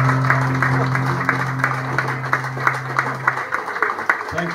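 An audience at the Bay of Islands Jazz Festival in New Zealand applauds the Joe Carbery Swingtet, a dense patter of clapping beneath a speaking voice, with a low steady tone humming along.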